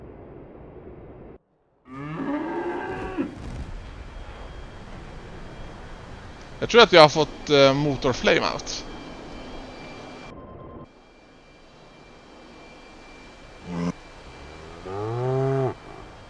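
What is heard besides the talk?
cows mooing in DCS video game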